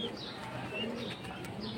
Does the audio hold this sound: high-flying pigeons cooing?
yes